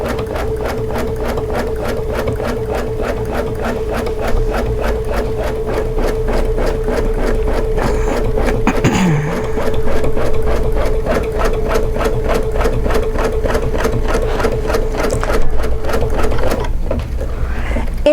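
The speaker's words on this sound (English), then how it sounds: "we're just going to lower the foot and put our basting stitch down" An embroidery machine sews a 5mm basting stitch with its presser foot lowered, running in a fast, even mechanical rhythm that is loud and close, steady for the whole stretch and broken only by a brief shift in pitch partway through.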